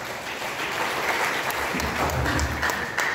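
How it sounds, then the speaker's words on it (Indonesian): Applause fills a council chamber during a regional legislative plenary session, a steady dense patter from the assembled members sustained for several seconds at moderate level. "Tepuk tangan untuk kita semua."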